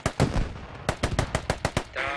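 Bursts of rapid gunfire in the military shooter game Squad, loud and close, with sharp shots in quick irregular clusters and a brief pause before more shots, then a short noisy tail at the end.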